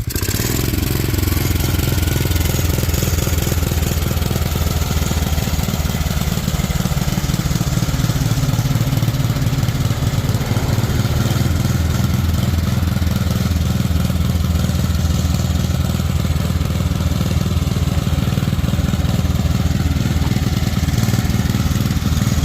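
Engine of a mini tractor truck running in high gear, a loud, steady, close mechanical drone with a rough low rumble that holds without pause for the whole stretch.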